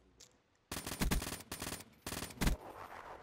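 Video game gunfire rings out in three rapid automatic bursts, loud and close. A long volley is followed by a short one and then another quick burst, with a faint shot or two before them.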